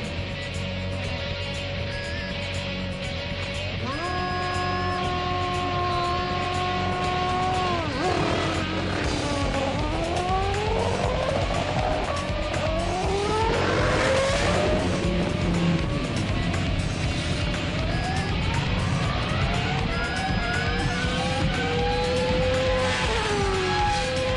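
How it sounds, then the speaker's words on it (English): Quarter-mile drag race between a car, a motorbike and a boat, engines revving with rising and falling pitch as gears shift, loud and continuous with passing roars. "We're just about to find out what's fastest, a car, a bike or a boat."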